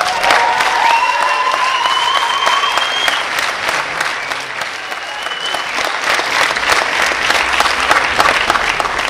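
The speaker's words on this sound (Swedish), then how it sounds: "Och ni där ute, heja och applådera!" Spectators applaud steadily throughout a women's veterans final and prize ceremony, a dense, sustained wash of clapping with a couple of whistle-like tones early on.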